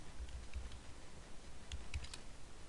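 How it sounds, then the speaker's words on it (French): Keys tapped on a computer keyboard while an email address and password are entered, quick irregular clicks in short bursts with pauses, close and fairly quiet. "je tape mon adresse mail, ensuite je tape mon mot de passe"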